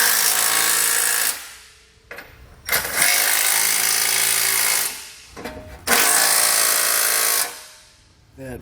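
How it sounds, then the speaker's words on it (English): Loud bursts of an impact power tool driving bolts with a 15mm socket while a Demco tabless base plate kit is mounted on a 2020 Jeep Cherokee, three long runs with brief rattling pauses between, close and alone. "Now we can come back and we can tighten up all of our bolts."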